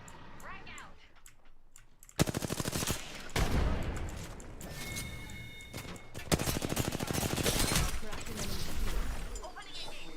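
Rapid automatic gunfire in the battle royale game Apex Legends, bursts of shots close and loud in repeated volleys, with in-game clatter and brief effects between them and no one talking.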